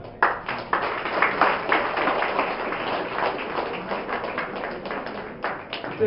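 An audience claps at a felicitation event honouring Nandamuri Balakrishna, a dense sustained round of applause from a crowd in a hall that swells early and holds steady to the end.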